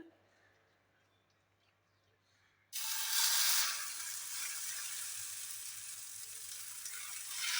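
Oil for an egg oats dosa hits a hot pan with a sudden loud sizzle after a quiet start, then keeps frying steadily in a close, continuous hiss.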